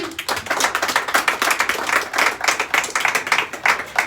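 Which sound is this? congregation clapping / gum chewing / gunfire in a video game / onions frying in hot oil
congregation clapping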